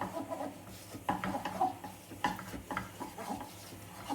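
A spoon works through a thick dough for a vegetarian shepherd's pie in a bowl, giving a close, soft rhythm of irregular wet scrapes and thuds over several seconds, no voices.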